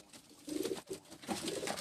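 A champion pigeon of a main breed from Gilgit-Baltistan coos softly, two short low murmuring phrases close by with no talk.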